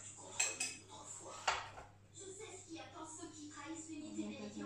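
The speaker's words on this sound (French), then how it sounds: "Je préfère avoir à soulever la casserole." A metal pan clanks and scrapes a few times against a hard surface, with a person talking quietly in the background.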